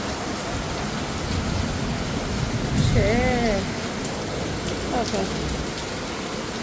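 Steady rain falling close by as a loud, even hiss, while a person speaks briefly over it partway through.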